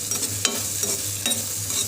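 Garlic stir-frying in a pan with onion for white sauce pasta, a steady close sizzle with scraping stirs and a couple of sharp spatula clatters, no talking.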